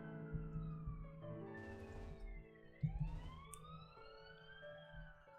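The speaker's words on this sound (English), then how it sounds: "Because here's some sirens." Wailing sirens in the Pokemon Rejuvenation video game, several overlapping tones sweeping up and down over a low rumble, loud and continuous with a sharp hit partway through.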